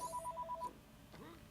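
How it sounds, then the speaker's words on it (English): A faint electronic phone ringtone chirps in a quick repeating pattern, then stops, followed by quiet low noise, heard in a room over LEGO Indiana Jones: The Original Adventures PC gameplay. "The phone keeps ringing."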